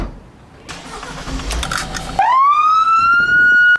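An ambulance engine turns over and rumbles, then its siren starts up and rises to a steady wail, loud and nearby, as it departs.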